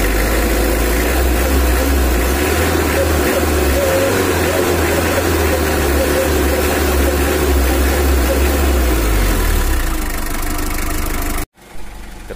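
A Mitsubishi L300 engine idles steadily with a slight rattle during a workshop tune-up. The rumble is close, loud and continuous, then cuts off abruptly near the end.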